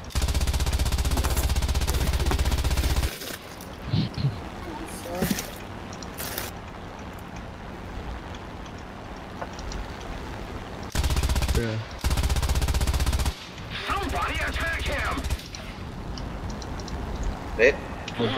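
Machine guns on an A6M5 fighter plane in the combat game War Thunder fire in loud, sustained bursts separated by stretches of engine drone, with short gaps and sharp cutoffs.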